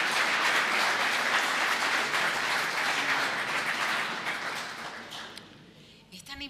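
Sustained audience applause at a book presentation, a steady dense roar of clapping that gradually fades over several seconds before trailing off into a few scattered claps.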